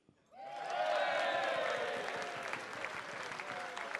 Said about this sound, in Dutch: En ik wil ook een groot applaus voor Thijs.